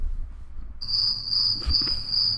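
A cricket chirping effect comes in after a quiet, low rumble and then holds as a clear, steady high trill, continuous and fairly close.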